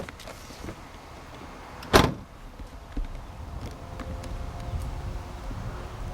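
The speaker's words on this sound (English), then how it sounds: "I'll go ahead and pop the hood for you guys." A 2003 Ford Mustang Cobra's hood release gives one sharp clunk near the start, followed by a softer knock a moment later over quiet outdoor background.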